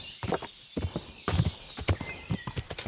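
Horse hooves clip-clopping in the medieval video game Kingdom Come: Deliverance: a quick, irregular run of close, crisp hoofbeats, with no talk.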